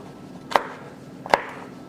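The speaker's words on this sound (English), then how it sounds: "So we'll just take a bunch of these and chop them down" A knife chops through a bunch of green beans on a cutting board, giving two crisp, separate thuds about a second apart, close and clear with quiet room tone around them.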